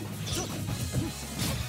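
A forward smash lands with a heavy crashing thwack in a Super Smash Bros match between Link and Zelda, muffled hits and swooshes over a dense, steady crowd and game noise bed.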